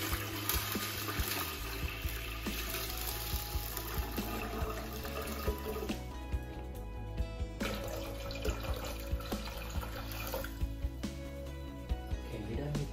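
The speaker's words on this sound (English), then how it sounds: "Pour the water here." Water is poured into a blackworm culture container over gravel, a steady splashing flow with a couple of pauses, heard under a person talking.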